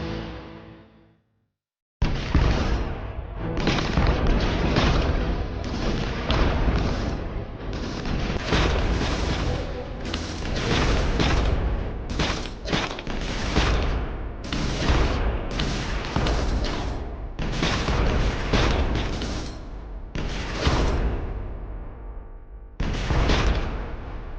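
A powered-up machine gun fires in the video game Colony Defenders 2, loud dense bursts of booming shots that go on almost without a break, with short gaps between volleys.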